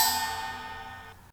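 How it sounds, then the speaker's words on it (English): A spring stroked with a piece of metal, heard raw: a bright metallic ringing with sustained high shimmering tones that decay over a little over a second before cutting off abruptly. "So sounds like a spring being stroked with a piece of metal"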